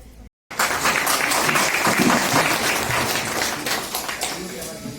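Loud, sustained applause and clapping from a crowd at a bank press meeting, starting after a brief silence and continuing steadily, with voices mixed in underneath.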